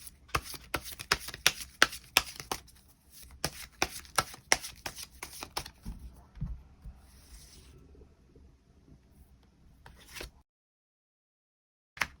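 Tarot cards are shuffled in a quick run of crisp riffling clicks, then softer sliding and rubbing as cards are drawn, close and fairly quiet before a brief silence.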